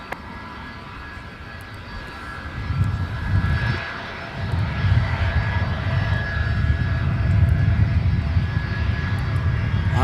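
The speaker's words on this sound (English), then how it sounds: "here's Delta 10 getting off to London Heathrow. Now ripping up runway 12 right" A Delta heavy jet takes off on runway 12 right at Minneapolis–St. Paul Airport, bound for London Heathrow, with a steady engine roar that builds and holds loud across the whole span.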